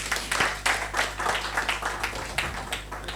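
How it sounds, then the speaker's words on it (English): Applause from an audience at a summit, a dense wash of many hands clapping at moderate distance, with steady rhythmic pulses through the short burst and no speech on top. "Please clap for her once more."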